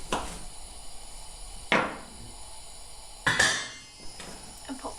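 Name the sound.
knife slicing baby corn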